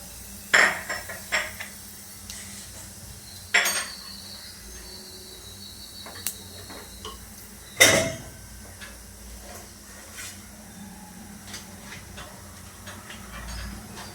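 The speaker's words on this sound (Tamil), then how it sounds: "இப்போ பெருஞ்சீரகம் கொஞ்சம் போட்டுப்போம் தாளிக்கிறதுக்கு" Fennel seeds sizzle in hot oil with a soft, steady hiss, broken by a few sharp clinks of a utensil against the pan.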